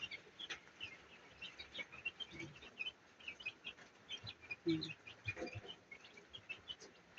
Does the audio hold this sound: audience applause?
no